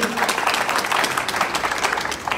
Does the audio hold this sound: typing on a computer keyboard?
no